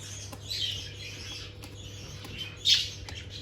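Budgies in an aviary give a few short chirps and squawks over a low steady hum, with one sharper call near the end.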